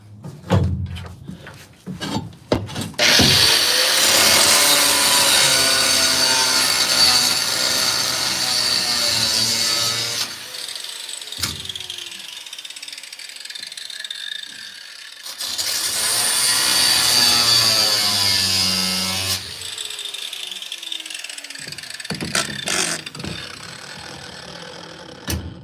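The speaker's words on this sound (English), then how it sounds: "Grind those off too." A power tool grinds off bolts in two long, loud, steady passes of several seconds each, with clanks and quieter handling sounds before and between them.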